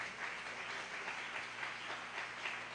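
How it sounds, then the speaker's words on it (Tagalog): Steady applause from a church congregation, a continuous wash of many hands clapping at a moderate distance, with no single claps standing out, lasting throughout without any voice on top. "pumalakpak ng malakas sa ating malapit."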